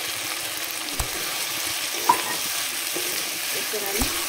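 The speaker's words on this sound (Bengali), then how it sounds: "এরপরে আমি এঁচোড়টা দিয়ে দেবো।" Young jackfruit hitting a pan of frying spice masala, a steady close sizzle with a few sharp stirring clatters and spatula knocks spread through it, no talking.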